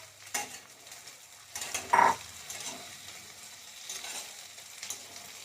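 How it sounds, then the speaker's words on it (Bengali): Tomato added to frying onions in a pan for a quail egg curry: a soft ongoing sizzle with scattered stirring scrapes and one brief louder clatter near the middle, close by, with no voices. "এবার আমি টমেটোটাও অ্যাড করে নেবো।"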